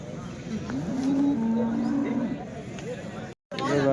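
Cattle at the weekly Punganur cow market let out a long, low, drawn-out moo up close, over a busy background of market bustle and other animals, cut by a brief dropout near the end.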